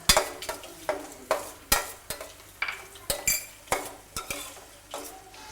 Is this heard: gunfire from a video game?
no